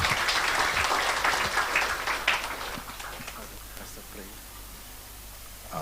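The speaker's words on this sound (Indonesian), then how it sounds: "Berikan tepuk tangan buat Tuhan" Church congregation applauding God after a sermon, loud clapping that gradually fades over several seconds, with some voices mixed in.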